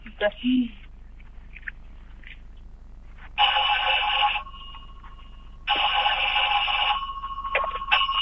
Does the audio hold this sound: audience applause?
no